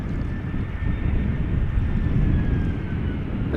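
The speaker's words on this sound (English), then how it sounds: "an A320 from EasyJet, now touching down, returning from Venice." An EasyJet Airbus A320 touches down at Amsterdam Schiphol, a rumbling low roar with a thin whine above it that swells slightly mid-clip, heard alone.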